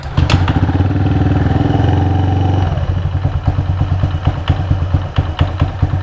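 A Honda Vario scooter engine, just fitted with a new CVT belt, starts and runs close by, a steady idle hum with a loose knocking clatter from worn rollers that settles into a rhythmic ticking.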